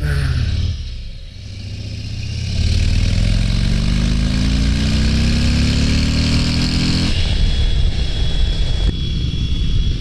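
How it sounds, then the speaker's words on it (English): A 2022 Harley-Davidson Road Glide ST motorcycle engine revs up as the bike accelerates on the road, a loud, close, deep roar climbing steadily in pitch, then easing after a gear change and pulling again. "Not the quickest bike in the world, but that's some decent pickup"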